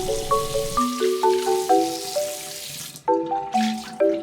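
Tap water running into a kitchen sink while lean pork is washed, a continuous splashing flow under faint background music, briefly dropping away before returning.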